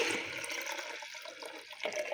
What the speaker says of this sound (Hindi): इसमें हम पानी समेत इसको डाल देंगे आराम से।